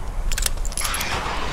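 Weapon reload in the video game Metro Exodus: a quick burst of metallic clicks and clacks, close and crisp, followed by a lighter rattling tail, all within about a second and a half.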